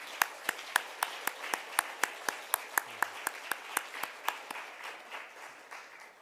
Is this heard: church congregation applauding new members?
yes